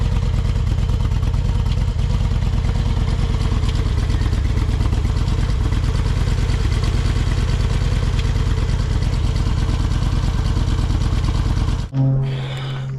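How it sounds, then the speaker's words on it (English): A motorcycle engine idles loud and close with a steady mechanical clatter and an occasional tick on a road trip. The engine cuts off abruptly near the end. "It seems to be idling fine, running fine, but there is a occasional tick."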